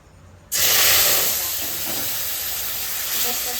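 Tamarind dropped into hot oil in a pan for chutney, setting off a sudden loud hiss that holds steady as a close, continuous sizzle.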